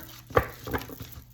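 Tarot or oracle cards shuffled by hand during a reading, giving three short, close, papery bursts spaced across a quiet background.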